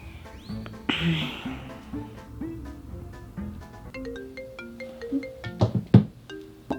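A phone ringtone plays in short repeating tonal beeps beneath overlapping conversation between people nearby.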